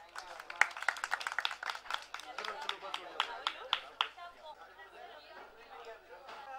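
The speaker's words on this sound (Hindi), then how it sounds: "तालियां तालियां तालियां" At a televised awards show, a crowd claps in sharp, distinct bursts that thin out after a few seconds into murmuring chatter and light scattered claps.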